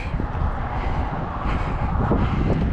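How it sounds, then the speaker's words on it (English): Steady blustery wind rumbling across the microphone on a walk in Lewiston, Maine, a continuous low roar with gusty swells throughout, no voices. "See, it's a little windy today."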